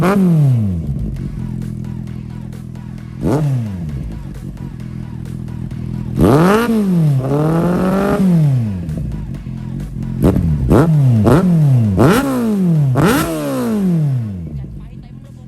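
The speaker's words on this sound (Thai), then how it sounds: "ลองฟังเสียงท่อกันก่อนว่าท่อคันนี้มันจะลั่นขนาดไหนดูดันขนาดไหนครับผม" A Kawasaki Z800 motorcycle with an aftermarket exhaust is revved repeatedly while parked, loud close blips and longer throttle pulls rising and falling in quick bursts, with short idle gaps between them and someone talking in the background.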